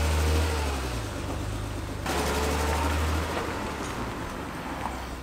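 A BMW Z3 roadster with a newly repaired soft clutch runs on a test drive, its engine droning steadily and loudly inside the cabin with a rev change partway through and no talk.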